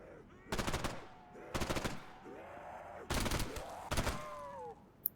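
Hip-fired automatic gunfire in a VRChat zombies game, four short loud bursts spaced about a second apart, with faint voices and game sounds in between.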